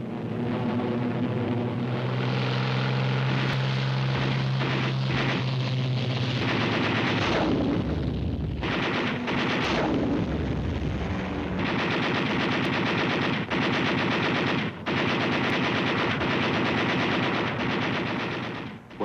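Rapid WWII warplane machine-gun fire rattles loud and sustained throughout, with bursts of gunfire and a droning aircraft engine during a large carrier air raid on a Japanese-held Pacific island airstrip.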